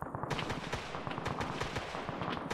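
Sustained automatic gunfire in a military video game: rapid cracking bursts, loud and close, firing almost continuously for the whole stretch with no voices.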